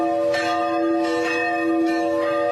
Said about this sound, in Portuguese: Os sinos da Igreja Matriz começaram a soar no início da noite